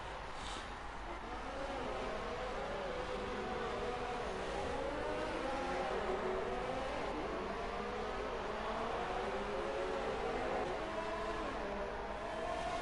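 Race cars roar past on a track in the racing video game Speed Force Racing, set in Mexico: a steady, wavering engine drone that rises and falls in pitch, with faint commentary underneath.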